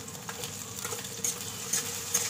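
Onions, ginger and chillies frying in hot oil in a wok give a steady crackling sizzle with small spattering pops, close and moderately loud, with no talking.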